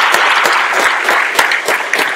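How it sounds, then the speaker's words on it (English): Conference audience applauding in a lecture hall, a dense, steady patter of many hands close by, with scattered sharper claps standing out through the continuous roar. "So we also need to give them a round of applause"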